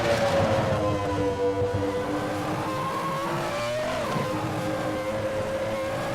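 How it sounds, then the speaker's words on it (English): Simulated race car engine in Assetto Corsa, a sustained tonal drone with climbing pitch and a clear gear change near the middle, then revving on steadily with no talk over it. "I've got a full impression of the sound of this engine and the gearbox by every change of the gear."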